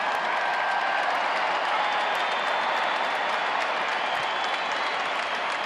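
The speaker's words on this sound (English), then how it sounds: "a pretty good crowd here today being implored by the scoreboard to make a little noise as Kepler quells all the excitement" Steady, dense crowd noise fills a large stadium at a Twins vs Rangers baseball game, a continuous roar of cheering and clapping with no breaks throughout.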